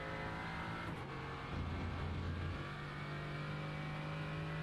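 A race car engine in a sim racing game at Silverstone, a BMW car club event, holds a steady loud drone, shifting pitch briefly mid-clip as it accelerates hard out of lower speed corners.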